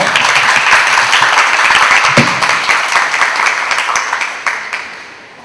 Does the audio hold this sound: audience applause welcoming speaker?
yes